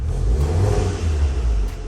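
A 2016 Volkswagen Golf R 4Motion engine revs strongly, a deep rumbling roar that swells and holds, close by and loud throughout.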